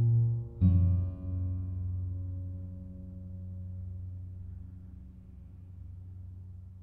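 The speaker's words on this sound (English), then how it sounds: "here's another example where it's been taken down two octaves instead" A recorded sound slowed to a quarter of its speed and dropped two octaves becomes a deep, murky rumble with one sharp onset near the start, then a long low drone that slowly fades.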